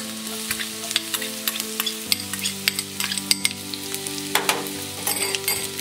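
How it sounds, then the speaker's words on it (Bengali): Chopped garlic frying in a little ghee and oil sizzles steadily close by, with frequent sharp spatters and crackles and some stirring scrapes, and a low steady hum underneath. "এতে অল্প একটু ঘি অ্যাড করবো, হাফ চামচ। দিয়ে দেবো রসুন কুচিগুলো।"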